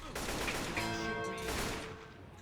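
Dense, continuous video-game gunfire from Left 4 Dead 2 in versus mode fills the moment as a sustained, loud burst of rapid shots with no clear breaks.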